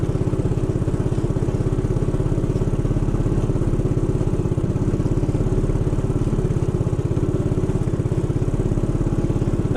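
A Hilltopper bike's engine runs steadily while being ridden along a trail in Lower Coyote Canyon, a loud, close, unbroken putter with a fast regular pulse and little change in pitch, and no talking.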